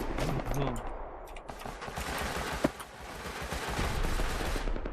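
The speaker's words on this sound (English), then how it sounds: "Rockets being launched at Blue." Rust raid event with rockets launched at a base and heavy gunfire around it, a dense, continuous crackle of shots and launches with one sharp louder blast near the middle, while a voice talks briefly near the start.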